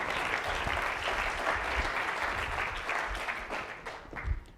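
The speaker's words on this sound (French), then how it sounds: "Et on peut les applaudir" A conference audience applauds panelists at a social media marketing event, steady dense clapping filling the room throughout at moderate level, with a small swell near the end.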